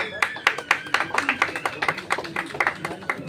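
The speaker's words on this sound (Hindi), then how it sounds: "जोरदार तालियां हो जाए सुनील सर के लिए" An audience at a stage show claps for Sunil Pathak, a steady run of sharp, fairly close hand claps in an uneven rhythm from a modest crowd, with no talking.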